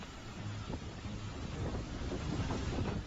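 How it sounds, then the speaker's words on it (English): Strong typhoon wind sweeps toward the Shanghai coast, a constant roaring rush with heavy gusts buffeting the microphone and a faint surf-like wash underneath, with no voices. "The wind blowing forcefully."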